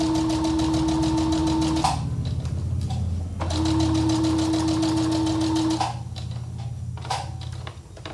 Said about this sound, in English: I'm going to sew along the edge here all the way around.